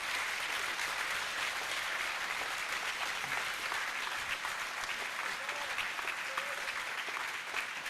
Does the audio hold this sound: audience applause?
yes